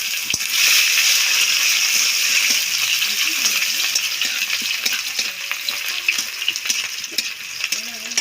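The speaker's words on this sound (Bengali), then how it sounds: "এবার আমি পেঁয়াজ দিয়ে দিচ্ছি" Onions hit hot oil with bay leaf and five-spice seeds, bursting into a loud sizzle that settles into steady frying with metallic clinks of a stirring spoon against the pan.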